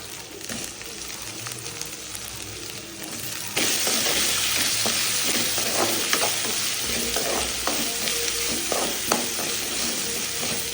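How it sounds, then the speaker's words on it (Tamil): Onion and tomato frying in a pan for mutton gravy, stirred with a utensil, give a steady sizzle with scraping clatter, and the hiss grows louder partway through. "இதையும் நல்லா வதக்குங்க. பச்சை வாசனை போகிற வரைக்கும் வதக்கிடலாம்."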